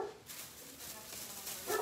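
A dog barks to be let back into a home, quiet and a little distant, with a couple of short barks against a soft background hiss.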